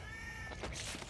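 A cat meows once in an animated series scene, a brief, thin cry that trails off into a soft thump and background score, all within about a second.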